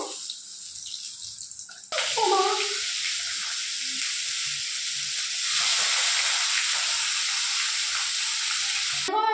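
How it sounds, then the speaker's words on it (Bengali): Rohu fish pieces fry crisply in hot oil, a loud continuous sizzle that swells after a brief quieter start with a few clatters, persisting steadily to the end. "আমাদের মাছগুলো পুরো কড়া কড়া করে ভাজা হয়ে গেছে। এবার আমি মাছগুলো আস্তে আস্তে তুলে নেবো।"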